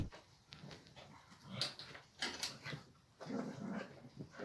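A dog whimpers and whines after fighting a tired bull, with short plaintive cries coming and going over a few seconds against outdoor background noise.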